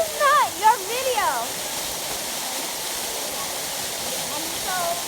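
A waterfall rushing in a steady, broad hiss of falling water that continues throughout, while a person speaks briefly over it near the start and again faintly at the end.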